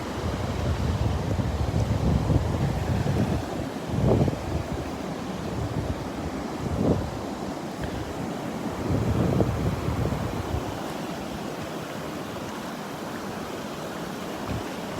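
Ocean surf rolling onto the beach at Delnor-Wiggins, with steady wind buffeting the microphone and several soft wave surges swelling and fading over a continuous broadband wash.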